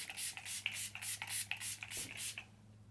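A bottle of LA Girl setting spray is spritzed in a quick series of short, soft hissing bursts, about nine in a row, close and quiet with no talking.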